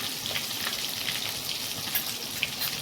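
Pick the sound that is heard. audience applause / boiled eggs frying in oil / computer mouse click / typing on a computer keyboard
boiled eggs frying in oil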